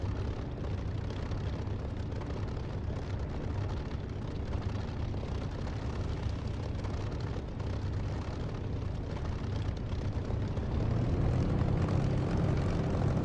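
A loud, steady propeller aircraft engine in a flight simulator game drones throughout, with a slight rise in pitch and intensity near the end.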